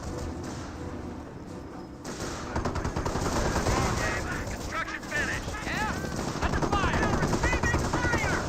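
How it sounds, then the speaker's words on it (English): Anti-tank guns firing in a World War II strategy game, repeated sharp cannon reports mixed with bursts of machine-gun fire under a dense battle din, a commentator's voice partly over it. "AT guns firing some shots over there"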